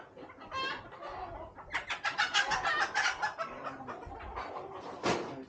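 Sweater gamefowl chickens clucking and squawking close by in bursts, with a busier run of excited calls in the middle and a final loud squawk.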